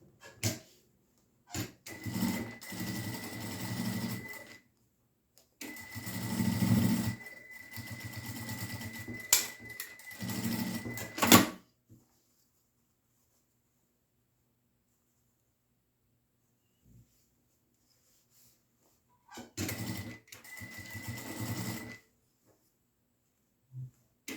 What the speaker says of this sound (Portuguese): Fiz uma costurinha aqui nas duas laterais